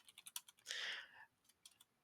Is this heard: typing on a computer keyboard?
yes